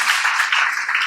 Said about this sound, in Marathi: टाळ्या, जोरदार टाळ्या